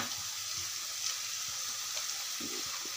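Onion and tomato puree frying in a spiced masala for dhaba-style palak paneer gives a steady, close sizzle with faint stirring and scraping. It runs alone throughout, with no talk.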